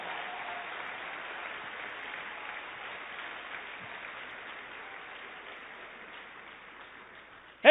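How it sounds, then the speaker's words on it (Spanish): A church congregation claps together in a sustained, fairly distant round of applause that fades gradually and ends with a sharp knock. "Dale un aplauso a Dios por esta porción de la Biblia"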